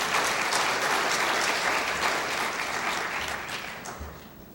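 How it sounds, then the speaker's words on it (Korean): A church congregation gives a round of applause in praise to God: dense, sustained clapping from a large crowd that holds steady and then gradually thins and fades toward the end. "이럴 땐 하나님께 영광의 박수를 좀 올려드리겠습니다."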